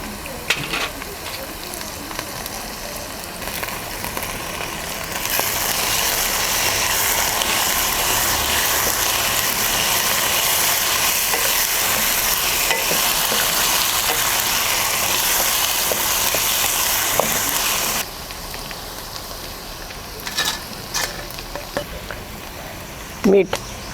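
Green chillies, curry leaves and moong dal hit hot oil while upma is being made, bursting into a loud, continuous sizzle that runs for about thirteen seconds before settling back to quieter kitchen sounds.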